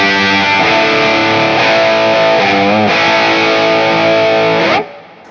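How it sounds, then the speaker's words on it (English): An electric guitar on its bridge pickup plays with crunch distortion, loud sustained chords ringing out alone, shifting a few times before cutting off near the end. "And of course in the bridge, great crunch."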